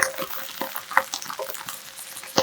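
Napa cabbage sprinkled with salt fries in a covered pan, giving a close, steady sizzle broken by irregular sharp crackles and pops, with no voices.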